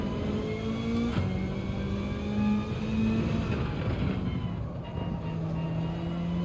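Engine drone of a car lapping a track in Gran Turismo 7, with sustained tonal whine shifting pitch through gear changes, steady and moderately loud with no talk.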